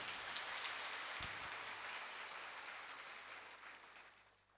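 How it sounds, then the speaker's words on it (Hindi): A church congregation claps together to give thanks to the Lord, a broad, steady patter of many hands that slowly fades away toward the end. "ताली बजाकर प्रभु को धन्यवाद"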